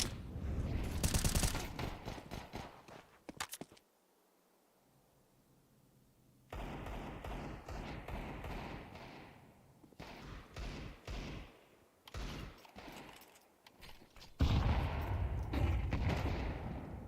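A Counter-Strike HE grenade goes off amid loud, dense gunfire during a 5v4 pistol round, with bursts of heavy thudding blasts separated by a near-silent pause.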